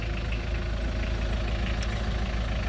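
A 1989 Mitsubishi Delica 4x4 with a 2.5 turbo diesel idles steadily close by, a constant low rumble with no speech.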